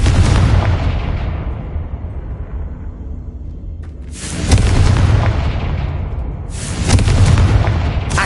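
Confringo blasting spells burst in Hogwarts Legacy: three heavy booming explosions, one at the start and two more a few seconds apart, each with a rolling low rumble that fades before the next.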